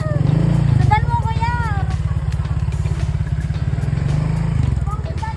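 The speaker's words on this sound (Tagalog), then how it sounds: "sinamahan ko muna yung bunso kong kapatid na Pango mag-testing sa pagdadrive ng motor" A motorcycle engine idles and putters steadily close by, with voices talking over its low, continuous rumble.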